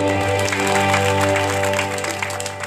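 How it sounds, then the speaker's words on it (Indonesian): A church congregation in a worship service in Wanga village applauds loudly, dense clapping running steadily over sustained keyboard or organ chords throughout. "Beri tepuk tangan yang meriah begitu"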